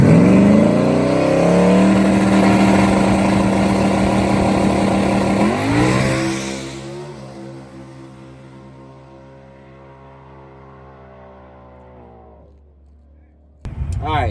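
Cars at a grudge race shootout in Alabama roar off the line, their engines climbing loudly in pitch before the sound fades into the distance. A sudden loud burst of noise comes at the very end.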